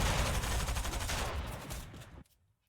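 Fortnite SMG fire during an FNCS tournament match: a dense, rapid, continuous burst of close, loud shots that runs for about two seconds and then cuts off abruptly into near silence.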